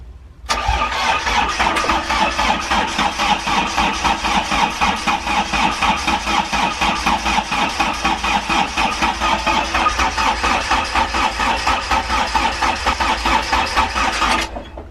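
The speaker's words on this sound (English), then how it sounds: "I don't think it's going to start straight away because there's no diesel in the things" A narrowboat's diesel engine that has run out of fuel cranking continuously as someone tries to start it, a loud rhythmic starter churn that runs steadily for about fourteen seconds and then stops without catching.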